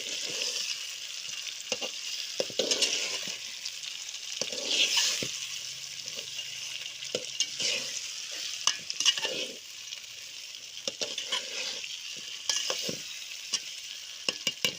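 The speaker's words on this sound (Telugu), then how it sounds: "ఒకసారి బాగా కలుపుకోవాలి" Andhra-style stuffed eggplant curry sizzles steadily in a pan while a utensil stirs it, scraping and clinking in irregular bursts; the frying is close and moderately loud, with no talking.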